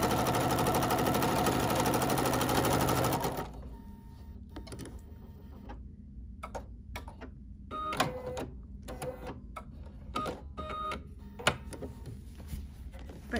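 A Bernina sewing machine fitted with a walking foot runs in a continuous loud whirr of rapid stitching, then stops and leaves a quieter stretch of scattered clicks and small handling noises.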